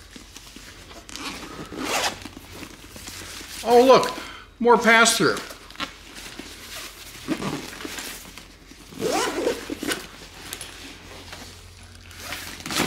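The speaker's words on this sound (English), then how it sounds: "zipper right there" A zipper on a DJI portable power station's carry bag is drawn in a couple of quick rasping pulls, near and clear, with someone talking around it and some fabric rustling.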